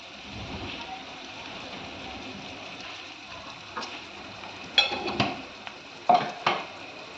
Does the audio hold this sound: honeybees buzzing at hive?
no